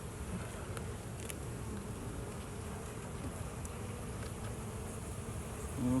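Honeybees hum in a steady, dense drone throughout an open-hive inspection, a close, continuous buzz with a slight swell near the end and no talking.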